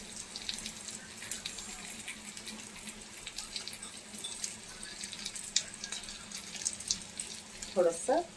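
Water is poured into a pan of stuffed capsicum (bell pepper) masala. A soft, continuous trickle and splash stays fairly quiet and close, with a few light clinks near the end.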